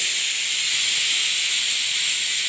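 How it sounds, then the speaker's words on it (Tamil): Pressure cooker whistling as it vents steam while cooking ghee tomato rice, a loud steady high hiss that runs unbroken through the whole clip with no speech over it. "விசில் வர ஆரம்பிச்சிருச்சு"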